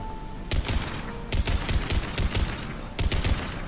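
Automatic weapon fire from Mass Effect 3 rattles out in four sharp, loud bursts, each a rapid string of close shots with short pauses between, and no talking over it.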